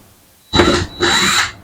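Two short bursts from a power drill backing screws out of a door panel on a 1970 Chevrolet Monte Carlo, close and loud with a brief gap between them.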